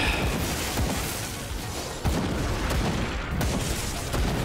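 Rapid bursts of gunfire in the action RPG Grim Dawn, repeated sharp shots and thuds layered over a continuous loud game soundscape.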